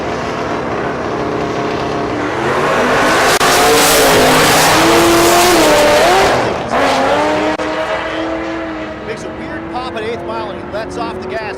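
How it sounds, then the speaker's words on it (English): A small-tire second-generation Chevrolet Camaro drag racing down a dragstrip, its engine roaring loud and close as it climbs through the revs, then backing off and fading, with a voice talking over it. "This is a 7-second capable small tire second gen Camaro."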